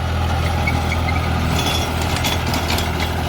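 A New Holland 3600-2 tractor with its roughly 50 hp diesel idling with no load, a steady low rumbling hum held at an even level throughout, close by.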